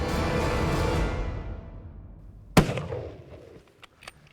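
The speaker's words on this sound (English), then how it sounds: "Nice shot, Rob." A rifle shot cracks outdoors during a boar hunt in Argentina, a sharp loud report that echoes away, followed by faint scattered knocks after a fading rumble.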